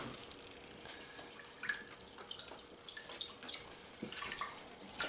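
Chicken broth pours into a cooking pot in a steady, faint, splashy trickle of liquid with small drips, heard alone without talk.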